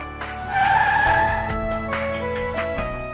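A car brakes hard to a stop, its tires skidding and squealing loudly for about a second before the screech trails off into quieter scraping and thuds.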